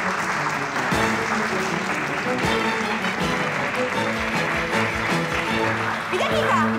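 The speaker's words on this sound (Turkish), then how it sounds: "Alkış." Applause welcomes a young couple arriving at a company office, steady clapping that fills the room alongside background music and some voices, continuing without a break.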